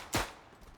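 A single sharp rifle shot in the World War I shooter Verdun, close and loud, with a brief tail fading into quiet ambience.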